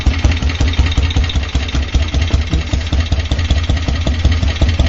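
A 1951 AJS Model 18 single-cylinder motorcycle ticks over at idle, its slow, even thumping beats loud and close with a mechanical clatter running through each firing stroke.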